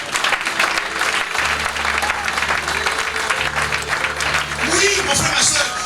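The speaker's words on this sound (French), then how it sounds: "Est-ce qu'on peut acclamer le Seigneur?" A church congregation applauds and cheers in praise, sustained dense clapping filling the room while a voice carries on over it and a low tone hums beneath.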